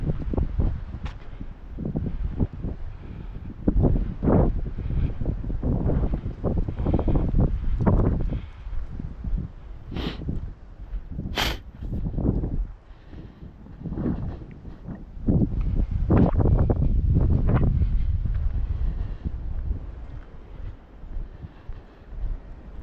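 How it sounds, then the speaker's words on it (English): Wind gusting through trees along an outdoor walking route, rising and falling in repeated loud rushing surges with rustling leaves and some microphone buffeting. "you hear that wind? We're going to get hit by a big breeze."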